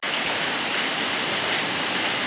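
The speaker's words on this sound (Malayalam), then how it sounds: "നല്ല മഴയായി പുറത്ത്" Heavy rain pouring down outside a house, a steady, dense broadband hiss that stays even and loud throughout with no other sounds.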